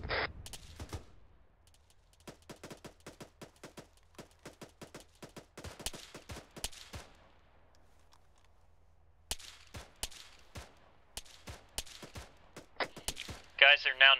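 Gunfire in the military shooter Arma crackles in irregular bursts and rapid volleys, sharp cracks at mid distance separated by short quiet gaps, with a faint voice now and then.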